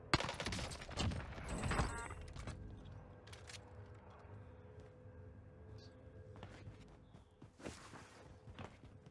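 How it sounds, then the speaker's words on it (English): An Owen submachine gun fitted with a precision barrel fires in a video game, a short sharp burst at the start followed by scattered quieter shots and footsteps in a mostly hushed setting. "Owen gun from 10 meters with the precision barrel."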